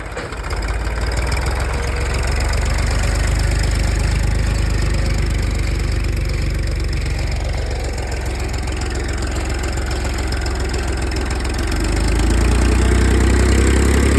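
A 35 hp 4x2 tractor pulling a five-tine plough runs steadily at low RPM, its loud, even diesel drone and rumble continuous and close throughout, without talk.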